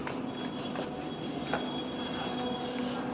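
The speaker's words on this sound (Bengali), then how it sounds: "বেরিয়ে গেলাম মেট্রোতে।" A metro train running: a steady, close rumble with faint rhythmic clatter and the occasional squeal of wheels on rails, heard continuously from inside with no talking.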